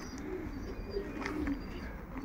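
Pigeons coo softly and repeatedly nearby, low murmuring calls over a steady outdoor background.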